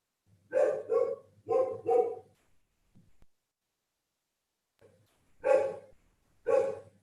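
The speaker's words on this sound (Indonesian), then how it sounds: "Wah, ini ada anjingnya gonggong ini." A dog barks in two separate bursts of two sharp barks each, with a quiet gap between, fairly close and clear with no talk over it.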